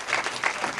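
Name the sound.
applause at a Diwali programme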